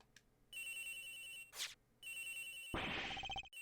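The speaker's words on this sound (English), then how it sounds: "Agent Hicks's phone! It's ringing from somewhere" A phone rings in a detective murder-mystery video game, two electronic ring bursts separated by a short gap, then a louder musical sting; no voices.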